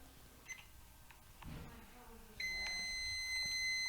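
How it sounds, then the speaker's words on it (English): A microwave oven gives one long, continuous high-pitched whine instead of separate beeps, starting suddenly after faint room sounds and holding loud to the end. "The microwave noise is... It's ridiculous."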